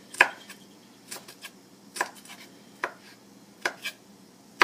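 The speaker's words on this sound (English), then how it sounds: "So I'm just going to chop up a few here." A knife chops Scotch bonnet peppers on a cutting board, about seven separate sharp, close knocks spaced irregularly against a quiet background.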